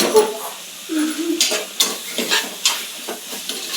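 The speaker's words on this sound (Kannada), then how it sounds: "ಇದಿಷ್ಟು ನಾವು ಅಕ್ಕಿ ಹಾಕಿ ಫ್ರೈ ಮಾಡ್ತಿದ್ದೀನಿ" Rice frying in a pan for vangi bath, a soft continuous sizzle broken by repeated scraping stirs of a spatula at an uneven pace, close and moderately quiet, with no voices.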